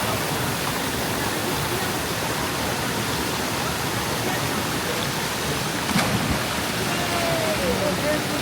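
A waterfall about an hour's drive from a rural casita roars in a steady, dense rush that fills the whole scene without a break.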